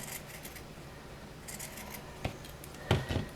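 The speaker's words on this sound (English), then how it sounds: "with some straight scissors just cut that straight edge off at the bottom on that line as well" Straight scissors snip across fabric along a stitched edge of a sewn bunny ear, giving a few short, quiet cutting crunches near the end with no talking.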